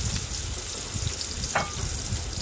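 Onions frying in oil in a pan, a close, steady crackling sizzle with faint stirring scrapes throughout and no voices.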